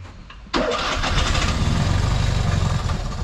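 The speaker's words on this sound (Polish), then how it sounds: "Zobaczcie, pan teraz spróbuje go odpalić" An early first-series Fiat 126p that had trouble starting cranks and catches after a quiet moment, its small engine bursting into a loud, rough, close idle that keeps running.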